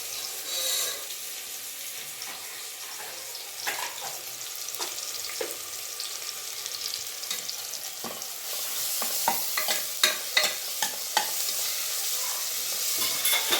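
Onion and ginger-garlic paste sizzle in a pan for a potato and green pea kurma while a spoon stirs them. Soft, steady frying builds into a run of louder, rhythmic scraping strokes near the end, with no talking.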